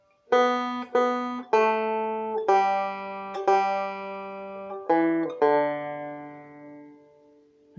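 A plucked banjo melody from Will The Circle Be Unbroken, two-finger style, rings out note by note, each twangy attack decaying slowly, steady and clear at moderate volume with no voices.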